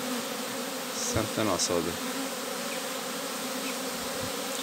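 Honeybees buzz at a hive as a swarm separates, a dense steady drone close by, with a brief spoken remark over it.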